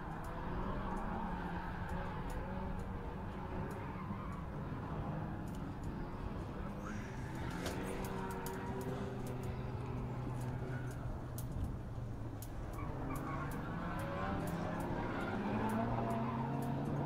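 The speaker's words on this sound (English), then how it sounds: "Billy using up as much track as he can." Race cars lapping Circuit of the Americas during a 2019 super lap battle, engines droning steadily at moderate distance with a rising whine near the end, under constant commentary.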